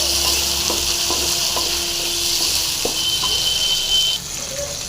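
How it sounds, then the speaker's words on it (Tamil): Tomatoes sauté in a pan for a herbal kuppaimeni soup, a steady frying hiss close by with light ladle taps and stirring knocks scattered through, no speech. "இப்போ தக்காளி சேர்த்துடலாம் அதில் தக்காளி சேர்த்து இது நல்லா வந்து கொஞ்சம் வதக்கிக்கலாம்"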